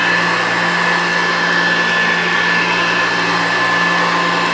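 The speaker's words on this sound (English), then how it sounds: "for an upright vacuum." A 1975 General Electric-designed Premier cord reel upright vacuum cleaner with a beater bar runs loudly and steadily up close, a constant motor whine with airy rushing noise and no pauses.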